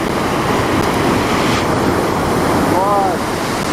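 A rushing river in Wells Gray in winter, a loud, steady broadband roar of churning water close to the microphone, with a faint brief squeak near the end.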